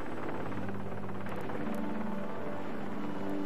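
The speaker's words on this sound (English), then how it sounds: "The pilot guns the Black Hawk helicopter 20 miles to the University of Louisville Hospital." A Black Hawk helicopter in flight makes a steady drone with a low rotor throb, loud and continuous, with faint ticking rattles on top.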